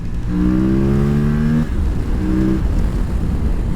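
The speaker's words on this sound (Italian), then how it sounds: "Adesso vi faccio sentire finalmente l'LC8 a carburatori." A loud carbureted KTM 950 LC8 Adventure motorcycle engine revs hard and climbs in pitch, eases off briefly, then pulls up again, with steady wind rush underneath.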